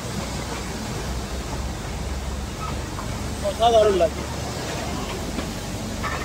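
The Matheran toy train creeping along at about 20 to 25 km/h, heard from on board as a continuous low rumbling wash of running noise with a voice talking briefly over it.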